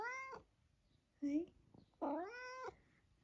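A house cat meows twice, a short mew then a longer rising cry, close and clear, with a brief spoken word between the calls.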